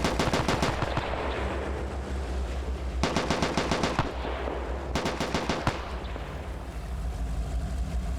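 Machine gun fire during a beach landing in a video game, rapid bursts of evenly spaced shots repeating over a steady rumbling battle background, loud and sustained.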